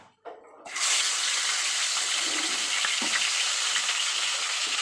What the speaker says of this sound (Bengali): তেলটা গরম হলে মাছটা একদম এপিট ওপিট করে হালকা ভেজে নেব